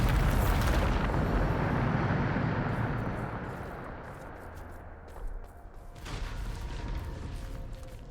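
A loud, booming blast from the Bombarda explosion spell in Hogwarts Legacy, with a heavy rumbling roar that fades over several seconds before a smaller crackling burst.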